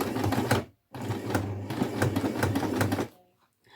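A sewing machine runs an edge seam on a lunch bag in bursts of steady, rapid stitching, pausing briefly, then a longer run before stopping; close and fairly loud.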